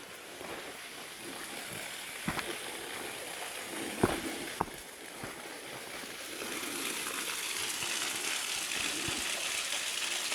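Creek water flowing near a track crossing in the Blue Mountains, a soft continuous wash of running water with a few faint knocks and taps in the middle.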